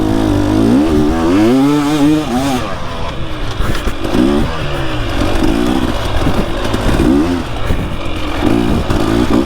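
A Yamaha YZ450 four-stroke dirt bike engine revs hard and close, climbing and dropping in pitch through repeated throttle blips and rising pulls over nearly ten seconds.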